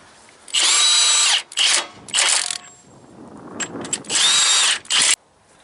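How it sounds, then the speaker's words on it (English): A cordless battery impact wrench hammers on a three-axle semi trailer during S-cam work, sounding in several loud, close bursts of rattling ratcheting impacts separated by short pauses and quieter clanks. "This one's just a plain Jane battery wrench."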